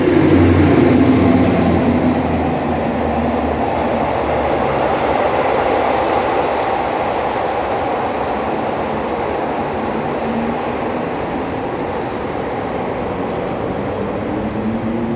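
Express train 112 from Den Chai to Krung Thep Aphiwat rolls past Bang Khen station behind a locomotive, a loud continuous rumble of wheels on rails with a sustained high squeal near the end, close by.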